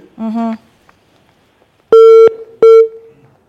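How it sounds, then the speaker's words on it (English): Two loud, steady electronic beep tones cut off a dropped phone call on a live TV morning call-in show, following a short burst of voice. "Seems like we lost Louis, but we'll be looking out for that phone call"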